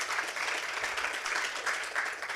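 Audience applause at a pitch competition fills the room, steady dense clapping throughout.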